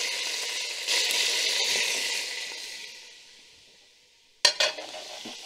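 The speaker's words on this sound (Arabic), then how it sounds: "هنا نخليو البصل تاعنا يتقلى لنا مليح مع هذاك الصدر تاع الدجاج" Chopped onion frying with chicken breast in a pan gives a steady broadband sizzle that fades over a few seconds, then a sharp clatter and a renewed burst of sizzling, as if the pan were stirred or jostled.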